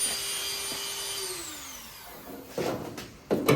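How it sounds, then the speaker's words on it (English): A small Dremel rotary tool works on a rusted car firewall: a steady high motor whine slides downward in pitch, then two short, loud bursts of harsh grinding follow close by. "Now let's see what kind of damage we can do to this little tiny Dremel."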